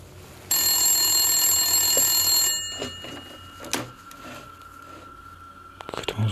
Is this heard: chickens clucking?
no